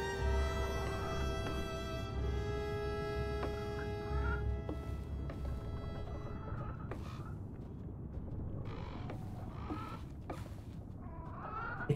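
Chickens in the dark Slavic RPG REKA cluck and squawk in a busy, overlapping flock at moderate distance, alone over a soft low background hum.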